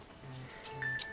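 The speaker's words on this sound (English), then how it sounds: "Ooh, I got a message." A phone message notification chimes once near the end, a short bright tone over faint room hum during a card trick, fairly close and clear.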